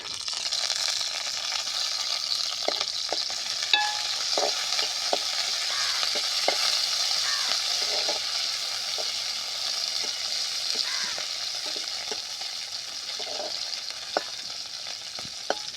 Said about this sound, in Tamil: அடுத்தது வெங்காயம் ஆட் பண்ணிக்கலாம். அடுத்தது கருவேப்பிலை ஆட் பண்ணிக்கலாம்.